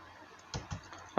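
A few quick keystrokes on a computer keyboard, soft close clicks followed by a louder tap at the end, with no talking.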